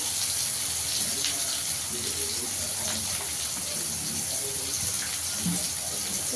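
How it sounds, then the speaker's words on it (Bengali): Water poured into a pan of vegetarian cabbage curry cooking with grated ginger, a steady gushing, splashing flow throughout at close range, with no talk. "জল দিয়ে দেবো যাতে পুড়ে না যায়।"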